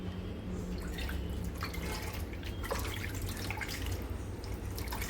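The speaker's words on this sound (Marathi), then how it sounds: "त्यांना ते हळद मीठ आहे ते धुवून काढते आहे" Tap water runs steadily in a kitchen sink while bitter gourd pieces coated in turmeric and salt are rinsed, with a continuous close splashing flow and small drips throughout.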